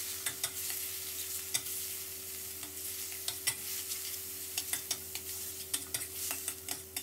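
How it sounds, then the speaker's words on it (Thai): Minced pork stir-fried in a pan for stir-fried tofu, a continuous close sizzle punctuated by repeated scraping clicks of a spatula stirring the meat. "ตามด้วยหมูสับ200กรัมแล้วก็ให้เราผัดหมูรอให้สุกเลยนะครับ"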